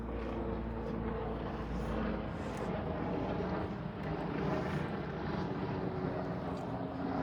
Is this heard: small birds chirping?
no